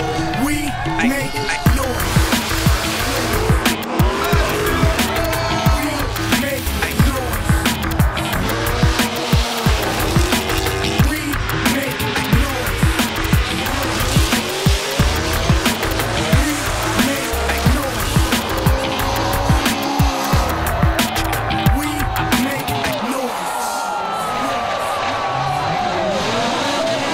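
Formula Drift cars racing at Wall Speedway in New Jersey, loud continuous engine roar with repeated tire squeals and revving throughout, a faint crowd underneath, easing off near the end.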